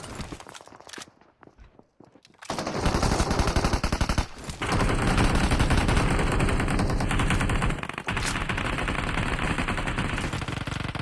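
Gunfire in the mobile game BGMI, rapid automatic bursts that run almost continuously and loud after a short quiet start, with a brief gap midway and game footstep sounds mixed in.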